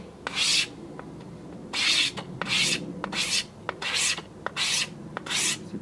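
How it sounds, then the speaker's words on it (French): A knife blade scrapes the hard outer skin off a bamboo section in repeated rasping strokes, about six bursts with short pauses between, close and dry, with no voices. "on va l'enlever en grattant avec la lame du couteau"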